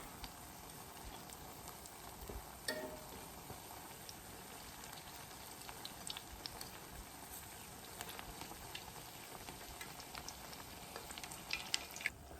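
Saltfish fishcakes frying in hot oil, with a steady crackling sizzle throughout, close and even, and a few faint clicks as they are flipped. No one speaks.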